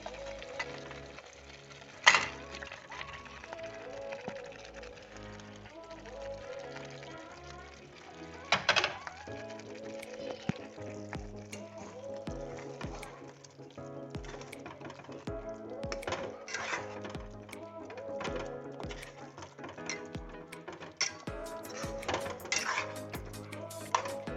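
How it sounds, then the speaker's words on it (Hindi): Fried chicken pieces tipped into a pan of cooked tikka masala, with clattering of a utensil against the pan, a couple of sharp clanks, and soft sizzling and scraping under quiet room sound. "अब मैं उसमें जो चिकन फ्राई करके रखा था वो मैं अब उसमें डालूंगी।"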